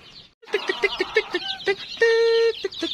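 Heritage-breed chickens cluck nearby in a quick, repeated rhythm, one bird letting out a longer drawn call among the short clucks.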